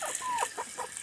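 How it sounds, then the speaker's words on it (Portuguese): A hen being given a bath clucks and squawks in short, quick bursts, close by, with water and handling noise around her and no talking. "Dando banho na galinha, gente."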